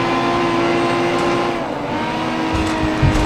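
In the racing game Grid Autosport, a race car launches off the line with a loud, sustained engine roar, closely heard, with a slight rise in intensity toward the end.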